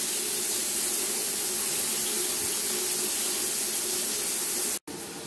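Water streams steadily from a shower onto something in a steamy bathroom, a continuous close hiss of spray with no talking, broken by a brief cut near the end.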